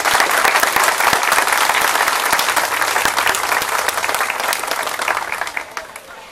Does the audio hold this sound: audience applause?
yes